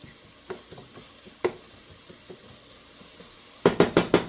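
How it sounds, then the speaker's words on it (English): Beef burger mince stirred in a frying pan, a few scattered scrapes and clatters over a faint sizzle, ending in a quick run of four sharp, loud knocks of a utensil against the pan. "Give it a good stir around."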